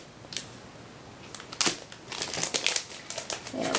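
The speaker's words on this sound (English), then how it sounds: "Go ahead and unwrap it." Plastic wrapping crinkles and tears as a new coloring journal from Peter Pauper Press is unwrapped by hand, giving close, irregular rustling with sharper crackles.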